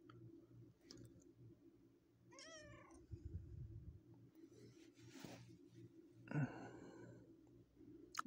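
A stray kitten, found outside and now kept in a box under a bed indoors, gives two clear, high meows with faint clicking and rustling in between.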